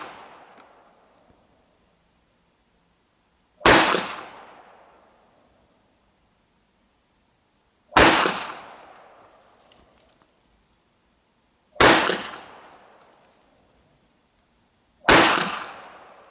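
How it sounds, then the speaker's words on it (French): A Saber Gear SG9 fires cartridges at a shooting range: five sharp, loud reports spaced several seconds apart, each decaying with a short echo into quiet. "j'ai tiré 5 cartouches, ça part plutôt à gauche"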